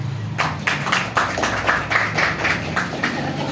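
Audience at a health and business seminar applauding, a dense patter of many hands swelling in rhythmic bursts, loud and close, with no talking over it.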